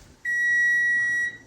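A kitchen oven timer gives one steady electronic beep, clear and high-pitched, lasting about a second, while a moose-meat smash burger bun bakes. The kitchen around it is quiet.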